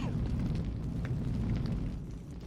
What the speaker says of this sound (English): do they also have to normally deal with the exploding dolls?